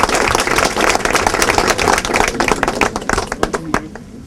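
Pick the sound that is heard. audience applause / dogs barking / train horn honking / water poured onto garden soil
audience applause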